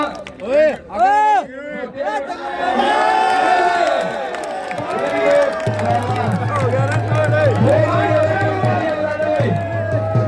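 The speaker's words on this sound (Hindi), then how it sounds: "वो दोनों पहलवानों के लिए तालियां बजाते भाई" Crowd at an outdoor dangal wrestling match cheering and whooping for two wrestlers, a loud continuous roar of voices with shouts. A commentator talks over it, and a low steady hum runs under the second half.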